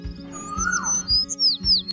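Cartoon sparrow and cuckoo give bright chirps and whistled, sliding calls, loud and close in quick succession over a soft rhythmic low thumping.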